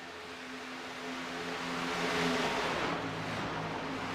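Stock car engines roar steadily through a league race, a sustained rising and falling drone of several cars at mid distance, swelling louder near the middle before settling.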